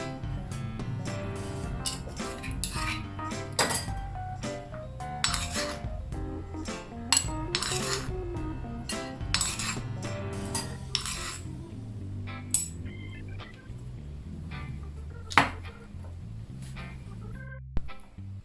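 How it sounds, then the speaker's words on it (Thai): A mortar is rinsed out with water left from boiling shrimp while making Thai nam prik kapi: irregular close metallic and ceramic clinks and taps, with soft sloshing between them and a sharper clank near the end. "แล้วเอาน้ำที่เราต้มกุ้งไว้เมื่อกี้นะคะใส่ล้างครก"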